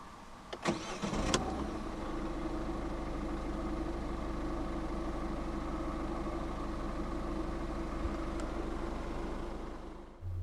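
A 2014 Peugeot 2008 1.6 e-HDi 92 diesel with a manual gearbox cranks briefly and fires, then settles into a steady, close diesel idle that runs to the end with no talking.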